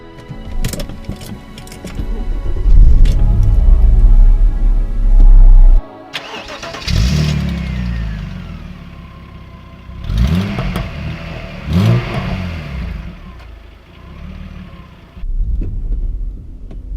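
A Vauxhall Omega V6 car cranks and fires up, then settles into a deep idle broken by several sharp throttle blips that rise and fall, loud and close.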